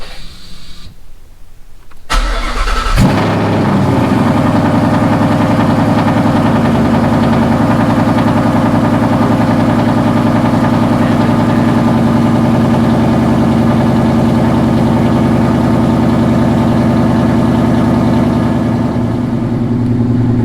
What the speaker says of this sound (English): it said turn the car off for 10 seconds and then start the vehicle